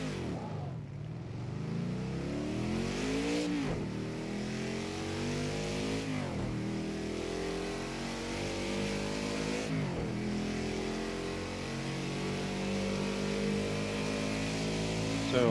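Car engine in the Project Cars 2 racing game revving up and dropping back through a string of quick throttle blips during heel-toe downshifts, rising and falling pitch sweeps repeating every few seconds, loud and steady with no talk.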